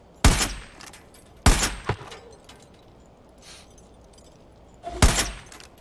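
Gunfire in the video game Far Cry 5: three sharp, loud gunshots spaced about a second or more apart, each with a short echoing tail, over a quiet background.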